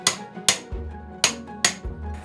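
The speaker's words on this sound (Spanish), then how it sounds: "Lo coloco en una bola de hierro y con el martillo le doy." Hammer blows on copper sheet resting on an iron ball, four sharp metallic strikes at an uneven pace with short ringing decays, close and clear with no talking.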